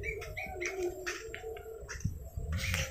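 A dove coos in a small backyard aviary, close and clear, a repeating series of soft low coos joined by a few brief chirps from nearby birds.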